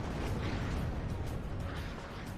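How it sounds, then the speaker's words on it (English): Mars rocket artillery fires in the WARNO war game, a dense continuous rumble of launches and blasts that rolls on without a break for the whole stretch. "We have a Mars firing on this blob here"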